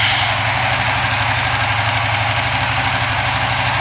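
A motorcycle engine fitted with an Apitech ECU idles loudly and steadily close by, with an even, continuous rumble throughout.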